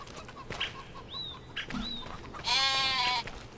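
Farm goats and sheep during a long winter: a single loud, wavering bleat rises over soft outdoor background sound, with a few faint bird chirps before it.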